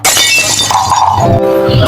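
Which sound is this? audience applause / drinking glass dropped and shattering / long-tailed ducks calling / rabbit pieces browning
drinking glass dropped and shattering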